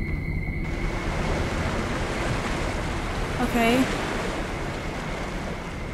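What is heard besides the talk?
waterfall-like water sound in video game Among The Sleep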